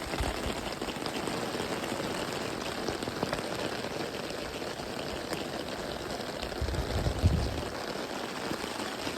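Warm summer rain falls outdoors on a golf course, a steady close hiss of drops pattering on surfaces throughout, with a brief low thump near the end.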